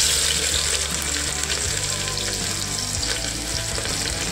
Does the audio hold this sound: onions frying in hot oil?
yes